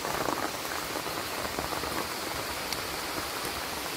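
Heavy rain pours steadily outside in a forest, a dense unbroken hiss with scattered drops pattering on surfaces, loud and continuous with no voices.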